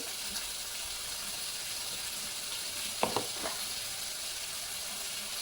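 Ground cumin hits hot oil with a soft, steady sizzle, faint and close, broken by a couple of quick clinks of a spoon against the pan near the middle.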